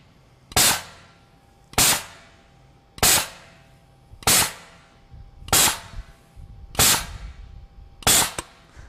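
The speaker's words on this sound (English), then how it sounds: "So it's able to generate a huge burst of gas" Pulsair air mixing system firing seven sharp, loud bursts of compressed gas at a steady pace about every 1.3 seconds, each a hard crack with a short hiss tail, used for mixing red wine fermentation at a winery.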